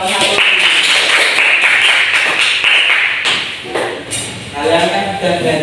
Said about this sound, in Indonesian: Saya beri dulu tepuk tangan untuk Bapak satu